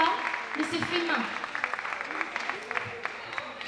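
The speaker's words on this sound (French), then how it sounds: "Vous pouvez l'applaudir" Audience applause at a folk festival in Saint-Florentin, a dense, steady wash of clapping hands that carries evenly through the whole stretch, with a murmur of voices mixed in beneath it.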